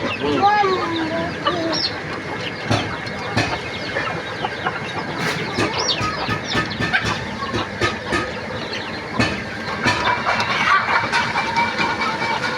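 Native chickens on a farm cluck and call in scattered bursts, near and far, over a busy background, while a person talks nearby.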